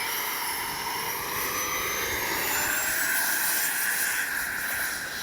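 Freewing 80mm MiG-21 RC jet taking off, its electric ducted fan producing a continuous rushing whine with a rising and falling pitch as it accelerates away, loud and steady throughout.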